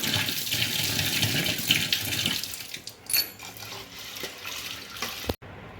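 Navara rice rinsed under running tap water, a steady close splashing and trickling that grows rough for the first couple of seconds and then thins to lighter drips and swirls before cutting off abruptly near the end.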